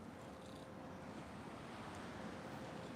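Ocean surf washing onto an oceanfront shore makes a steady, faint broadband rush with no distinct breaks, blended with light wind and no voices.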